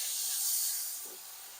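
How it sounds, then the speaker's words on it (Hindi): Garlic ginger paste fries in a pan in a short, steady hiss that fades slightly toward the end, with no voices. "अब यहाँ पे 3 टेबल स्पून भर के लहसुन अदरक की पेस्ट जाएगी। इसको भी थोड़ा सा फ्राई करेंगे।"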